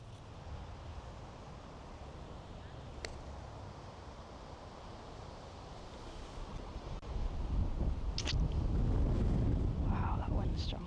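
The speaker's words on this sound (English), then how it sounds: "Wow, that wind's strong." Strong wind gusting across an open golf course, a steady roaring rush that swells louder and heavier in the second half.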